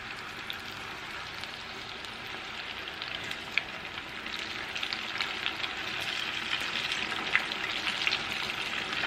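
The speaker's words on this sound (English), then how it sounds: "in the grease one by one, making sure we're not overcrowding the grease. And we're going to let this fry up" Pieces of chicken frying in hot grease for honey butter chicken skewers, a steady close crackling sizzle that builds slightly over time, with no talk over it.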